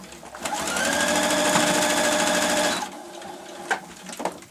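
Sewing machine stitching across a seam of a patchwork cosmetic bag, a steady fast whirring hum for about two and a half seconds before stopping, followed by a few soft clicks and handling sounds.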